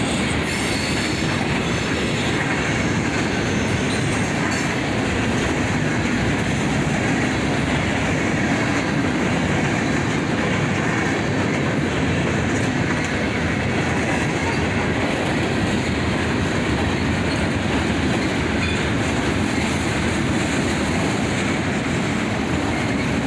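Norfolk Southern manifest freight train with autoracks and intermodal cars mixed in, rolling past close and loud, steady wheel rumble with clickety-clack and occasional wheel squeal throughout.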